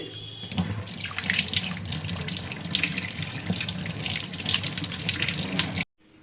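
A kitchen tap runs steadily while hands are washed under it, a continuous close splashing flow that stops abruptly near the end.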